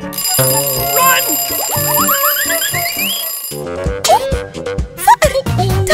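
A toy phone in a children's play scene gives off bright electronic ringing tones and beeping melodies, with short bursts and a few stops and restarts, heard plainly without talk.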